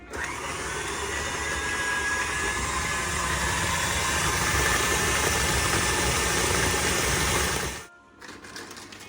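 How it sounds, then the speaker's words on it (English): A stand mixer whisks buttercream with chopped cherries, a steady loud motor whir running continuously for about eight seconds before cutting out near the end, with no talking. "We have our buttercream in the mixer."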